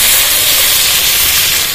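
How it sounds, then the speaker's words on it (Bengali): Water hits a hot pan of fried masala for a Bengali small-fish curry with potato and eggplant, producing a loud, steady, close hissing sizzle that fills the whole moment. "এবার জল দিয়ে দেবো।"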